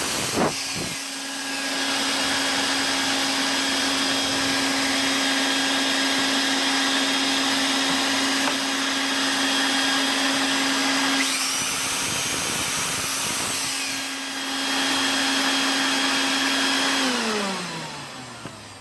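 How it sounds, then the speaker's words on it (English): A shop vacuum roars steadily for nearly twenty seconds while a drill bores pocket holes in wood, the drill's whine shifting midway before both motors wind down at the end. "I'm going to turn on my vacuum"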